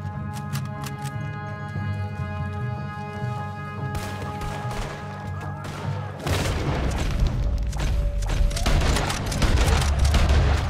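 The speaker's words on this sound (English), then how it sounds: "There's another set of cannons up ahead!" Cannons fire during a firefight in Red Dead Redemption 2, heavy booms landing over a sustained game soundscape, with a dense, loud barrage of crashing blasts and gunfire building in the second half.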